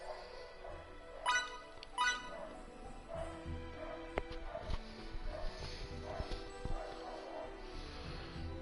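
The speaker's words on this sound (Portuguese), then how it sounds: "Aí tem um cachorro chato pra caralho que não para de latir aqui do lado" A dog barks next door, two sharp, fairly close barks early on, followed by scattered clinks and background game sounds with no further clear barking.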